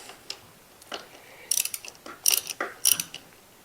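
Socket ratchet snugging an oil drain plug on a Rawrr Mantis X motorbike, giving several quick close clicking bursts of the pawl, fairly quiet, no voices.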